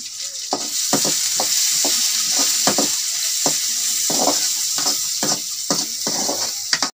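Onions frying in oil until red for a Jia fish curry: a continuous loud hiss of sizzling oil close by, punctuated by regular scraping strokes of a spatula stirring roughly every half second.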